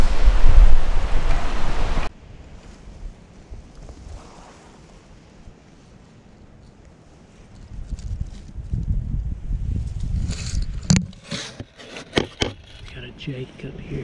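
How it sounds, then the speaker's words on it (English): A strong north wind buffeting the microphone outdoors during a turkey hunt: heavy gusts at first, a quieter lull, then gusty rumbling with sharp rattles and knocks, and a voice speaking at points. "This wind is horrible, horrible. It's straight out of the north now."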